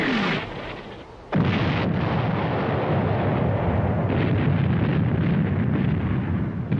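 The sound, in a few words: artillery bombardment, World War I battle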